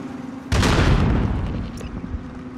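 A grenade explodes in the video game Call of Duty with one loud, sudden boom after a brief lull, then a long rumbling decay with debris crackle fading over two seconds.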